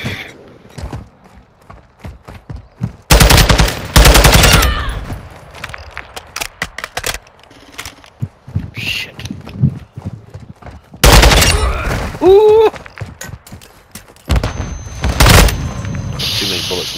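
Gunfire in the Call of Duty: Modern Warfare II shooter during a free-for-all match: several dense, loud bursts of rapid shots between quieter stretches of clicks and footsteps, with brief game sounds in between.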